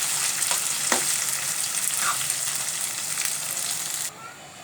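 Taro flowers fry with a steady broadband sizzle in a frying pan, with a few sharp stirring scrapes along the way; the crackle drops off abruptly near the end.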